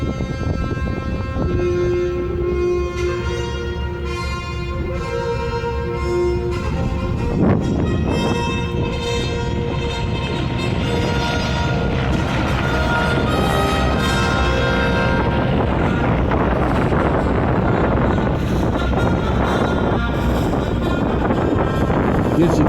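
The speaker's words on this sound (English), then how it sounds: "Big radial engines." Big radial aircraft engines from a five-ship formation roar at the Flying Circus Airshow, a loud rumbling drone buffeted by wind noise that stays heavy and continuous throughout.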